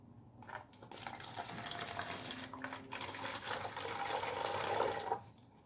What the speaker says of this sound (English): So you have to pour the water inside the 1 liter.